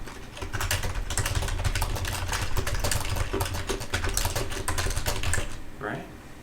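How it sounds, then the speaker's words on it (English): Rapid, steady clatter of computer keyboard typing fills the clip at close range, dense and continuous, with low hum underneath and the keystrokes thinning out near the end. "When I type, you can see."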